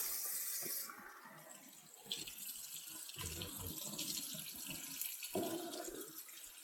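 Water runs steadily from a tap, a close hissing splash that shifts in tone as the flow changes.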